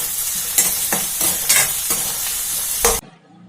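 Ingredients with kudampuli sizzle in a pan for fish curry, a steady close frying hiss broken by several scraping stirs, ending abruptly in near silence; no one speaks.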